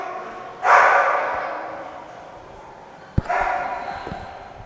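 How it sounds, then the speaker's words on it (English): A dog barks in bursts from another room, muffled and somewhat distant, with two loud outbursts separated by a quieter stretch and a sharp knock between them. "You can hear the dog in the other room going insane."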